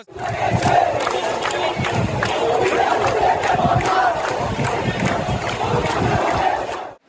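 Thousands of protesters crowd the central Shaheed Minar grounds at Dhaka University, a dense, continuous roar of many voices shouting and chanting, steady and loud throughout with no single voice standing out.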